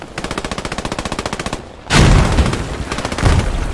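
Gunfire in the WWII shooter Post Scriptum: a rapid, evenly paced burst of automatic fire, then a sudden loud sniper shot with a heavy booming tail, followed by further distant reports.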